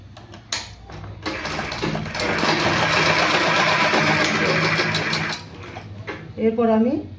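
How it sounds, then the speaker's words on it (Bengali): A sewing machine stitches cloth in a long, steady mechanical whirr lasting several seconds, with a voice speaking before and after the run. "এরপর আমি সেলাই করে নিচ্ছি।"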